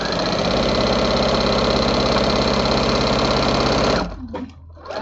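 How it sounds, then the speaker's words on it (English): A sewing machine stitches through layered rag quilt fabric, a loud, close, steady mechanical whirring hum for about four seconds that then stops, leaving faint handling noise. "And you can see how quickly that this goes because we just keep sewing."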